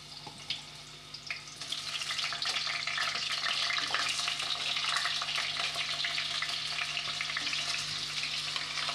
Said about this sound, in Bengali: কড়াইতে তেল গরম হয়ে গেছে, এবার আমি দিয়ে দিচ্ছি কেটে রাখা আলুগুলোকে আমি ভেজে নেব।